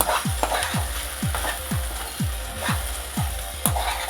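Okra (bendakaya) fries with a steady sizzle in a pan while a spatula stirs it in regular scraping strokes, about two per second, close and clear with no talking.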